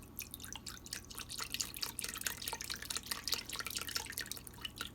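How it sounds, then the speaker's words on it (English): Chicken broth pours into a crock pot for ham and potato soup, a continuous close splashing and dripping stream that runs steadily throughout without any talk. "Next, you will pour in the entire container of chicken broth."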